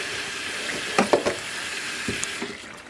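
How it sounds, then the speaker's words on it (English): A water sprayer hoses finishing media off objects that have come out of an AutoFinish finishing machine, a continuous hissing spray with a few splashing bursts near the middle. "we'll just simply use the sprayer to hose off the media"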